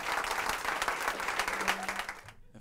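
A studio audience on a Turkish late-night talk show applauds a band as they are called to the stage, steady clapping that cuts off abruptly near the end.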